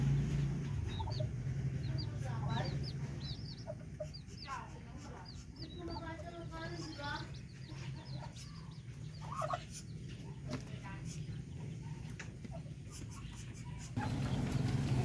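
Darag native chickens clucking in a coop, a busy mix of close clucks and chirps over a low steady hum, with a voice talking faintly underneath at times.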